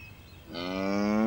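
Cattle moo once in a long, rising, drawn-out call that swells louder toward the end, heard alone and fairly close.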